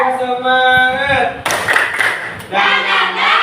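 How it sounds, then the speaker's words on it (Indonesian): A primary school class claps a rhythmic tepuk semangat chant, sharp clustered claps in patterned bursts mixed with children's chanting voices. "Tepuk semangat."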